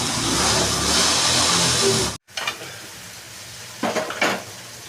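A loud sizzle of frying papaya breaks off abruptly, followed by a spoon scraping and clinking against a pan amid softer sizzling.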